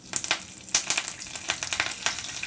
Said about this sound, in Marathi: तेल तापलेलं आहे त्यामध्ये जिरे घालायचे आहेत कढीपत्ता घालायचा आहे